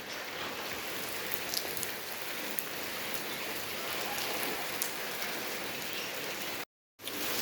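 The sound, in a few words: heavy rain falling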